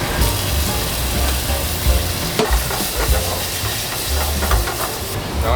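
Chili and scallion stir-fry in a hot pan, a loud dense sizzle and steamy hiss with periodic scraping tosses of a spatula, close up and unbroken.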